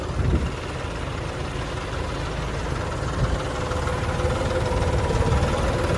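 Two tractors idle and chug steadily close by in a field, a continuous low rumble with a faint knocking rhythm and no voices.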